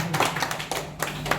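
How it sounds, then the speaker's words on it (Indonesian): Applause: a crowd at a gathering claps steadily with dense overlapping hand claps that swell in waves, loud and close, with no talking over it. "Saya minta tepuk tangan untuk Pak Hercules dan Pak Daud."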